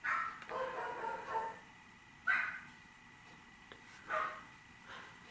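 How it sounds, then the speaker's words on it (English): Several dogs bark indoors in short separate bursts, a cluster at the start and single sharp barks spaced a second or two apart, moderately loud against a quiet background while snow is being cleared outside. "the dogs are freaking out"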